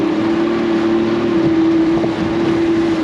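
Motorboat engine running low on fuel: a loud, steady drone with a constant low hum, close to the microphone and mixed with wind noise, no voices.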